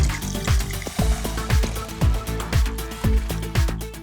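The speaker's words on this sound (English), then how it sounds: "We'll mix some water" Water is mixed in a container to make colored water, giving about eight rhythmic swishing, sloshing strokes roughly half a second apart, close and fairly loud.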